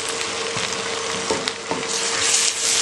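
Mutton fries in a pan with steady sizzling and crackling, punctuated by a few sharp pops and stirring scrapes.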